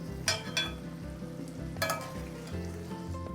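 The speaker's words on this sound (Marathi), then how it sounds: "आणि याला एकदा हलवून घ्यायचं।" Stuffed capsicum frying in a pan as it is stirred and turned, a close, steady sizzle broken by a few sharp scraping clatters of the spoon against the pan.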